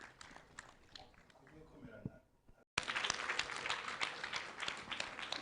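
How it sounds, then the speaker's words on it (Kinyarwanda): A crowd at a wedding ceremony breaks into loud, dense applause after a brief pause, following a stretch of scattered clapping under a speaking voice. "Ahubwo rero nyamuneka amashyi menshi."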